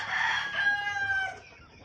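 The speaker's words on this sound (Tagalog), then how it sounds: "Ito yung mga manok natin, mga naglilimlim." A single hen in a backyard chicken coop gives a drawn-out, wavering cluck-cry close by, fading out after a second and a half with no talk.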